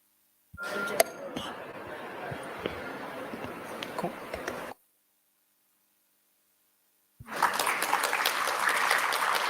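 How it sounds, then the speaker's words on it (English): Conference audience at a national pharma-sector event claps in two bursts split by a few seconds of silence, a thin scattered patter first, then a louder, fuller round, with a low hum beneath. "A big round of applause for Dr. Arun Garg, Vice Chancellor, MVN Univ"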